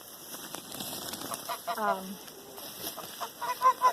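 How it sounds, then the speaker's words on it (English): Toulouse geese on a farm giving short honks and clucking calls, with a few louder calls near the end, over a steady faint background hiss and some quiet voices. "So we also have 5 Toulouse geese."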